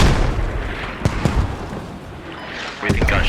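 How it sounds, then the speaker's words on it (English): Gunfire bursts in a tactical video game battle near an objective radio and observation towers, with sharp reports around one second and again near three seconds over a noisy, busy background where voices talk. "Where do you think gunshot from?"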